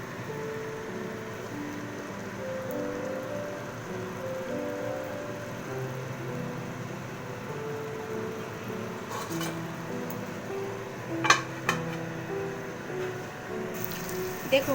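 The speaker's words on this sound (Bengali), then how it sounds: "একদম কম আছে কিছুক্ষণ এটাকে কষিয়ে নেব দেখুন" A vegetarian rice and pointed gourd mixture sautés in a pan with a steady, rain-like sizzle, while a voice talks faintly over it and a few sharp clinks sound near the end.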